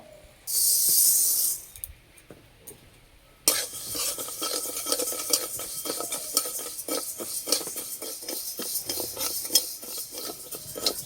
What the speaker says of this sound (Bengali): শাকের জন্য মুগ ডালটা একটু ভালো করে ভেজে নেব